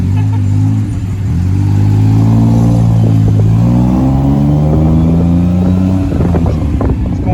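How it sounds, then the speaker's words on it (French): A scooter weaves between cars in Bangkok traffic, its engine droning loud and close with rising and falling pitch as it speeds up and eases off, over constant street rumble. "Là, il est vraiment en train de faire de l'interfile en scooter."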